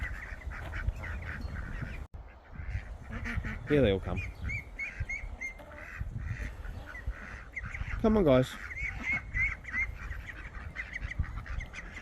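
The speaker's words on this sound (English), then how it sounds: "This is our oldest duck." Several ducks in a home garden quack in short bursts close by, trailing a person who calls to them as they come.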